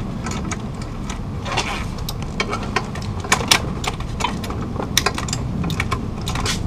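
Ratchet wrench snugging the clutch pressure plate bolts on a Mitsubishi 3000GT, giving a run of quick, fairly close clicks that come in short bursts over a steady background of low workshop hum.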